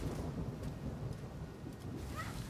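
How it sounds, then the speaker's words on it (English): Rumbling thunder with rain in the Path of Exile video game, a low continuous roll that swells and fades, fairly faint and with no talk over it. "That thunder sound effect was good enough that I actually had, like, a momentary thought of, like, is it thundering right now?"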